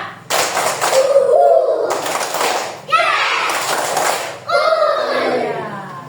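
A class of young children claps a counted pattern in short, sharp bursts, separated by a teacher's voice leading them between each round.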